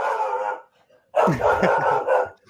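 A dog lets out a drawn-out howl, then after a short pause breaks into a run of yipping barks and howling, close and loud.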